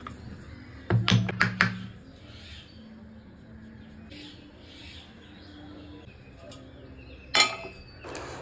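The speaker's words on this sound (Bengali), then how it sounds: "এবার একটা হামলদিস্তার সাহায্যে আমি এলাচগুলোকে কুটে নেব।" Cardamom seeds pounded in a mortar and pestle while making stuffed mango kulfi, giving a quick cluster of sharp, close knocks early on and a single louder strike near the end, with quiet room tone in between.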